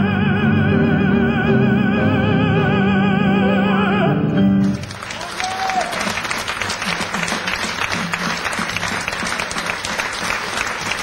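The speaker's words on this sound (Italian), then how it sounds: "vorrei che facessimo un applauso al maestro Nicolas Giusti" A concert audience in L'Aquila bursts into loud, sustained applause for the conductor, dense clapping filling the room after a held orchestral chord fades.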